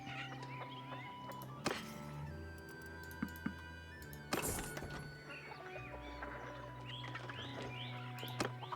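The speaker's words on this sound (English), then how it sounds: "birds singing in the background," Small birds chirp and sing through a village farm ambience in Mount & Blade II Bannerlord, mixed with hoof clops, a horse whinny and other animal sounds at moderate level, with no talking.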